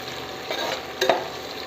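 Shallots and onions sauté in a pan for Kerala-style beef curry, with a constant hissing sizzle broken by two quick stirring scrapes.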